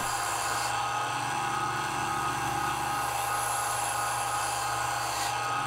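Three-quarter-inch bowl gouge with a 40-degree bevel cutting a spinning wooden log on a lathe, a steady, loud whirring drone with a constant hiss that holds unbroken throughout, no voices.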